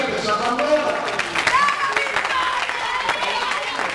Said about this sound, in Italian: Un bel applauso per la signorina che sa mandare